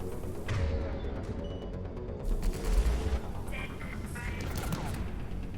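Gunfire in the Mass Effect 3 shooter, a steady clatter of shots and impacts with a heavier burst partway through, continuous at moderate loudness over a game soundscape.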